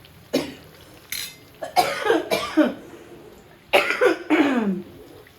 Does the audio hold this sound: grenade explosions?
no